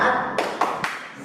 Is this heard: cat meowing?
no